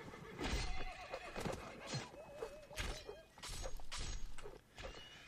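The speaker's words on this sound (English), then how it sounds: "they've got Janet going in there trying to assassinate as many of their horses as possible" Horses neigh and whinny amid the din of a Mount and Blade video game battle set in the American Civil War, several wavering calls over clattering hooves, crashes and dense combat noise, with no talk.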